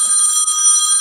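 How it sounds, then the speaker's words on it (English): A phone rings with a bright, steady electronic trill for about a second, loud and close, with no talk over it. "Whose phone is that?"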